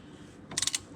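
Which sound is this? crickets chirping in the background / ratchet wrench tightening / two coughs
ratchet wrench tightening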